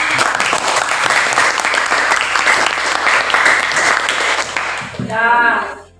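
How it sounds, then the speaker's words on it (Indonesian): A class of students claps for a student group in a school lesson, dense steady applause for about five seconds, then a voice cuts in near the end. "Silakan berikan tepuk tangan untuk dari kelompok."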